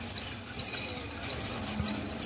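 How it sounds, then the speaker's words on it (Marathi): Cooked tomatoes and their liquid drain through a kitchen sieve, a soft steady trickle and faint dripping of watery juice throughout, quiet and close. "आता आपण या चाळणीमध्ये काढूया हा टोमॅटो सगळा।"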